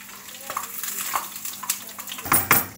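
Small diced potato pieces lightly frying in a little oil and being stirred in a pan, soft sizzling with scattered scraping and clinking taps of the utensil, a sharper clatter near the end.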